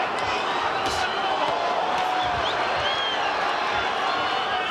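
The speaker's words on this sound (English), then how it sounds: "Big crowd on hand tonight to watch this exhibition of boxing." A large crowd at a Roy Jones Jr. versus Julio Cesar Gonzalez boxing exhibition keeps up a dense, continuous roar of murmuring and cheering that fills the arena without pause.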